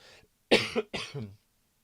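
Two harsh coughs close to the mic, followed by a short throat-clearing rasp, then silence.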